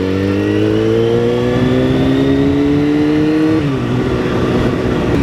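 A 2004 Kawasaki ZX10R 998 cc sport bike engine runs loud and close, its tone climbing steadily as it revs, then dipping briefly before settling into a steady drone.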